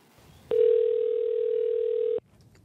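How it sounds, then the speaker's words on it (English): A single steady ringback tone sounds on an outgoing telephone call, lasting under two seconds, clear and close, with quiet line noise before and after. "bless Sarah for picking up the phone right away"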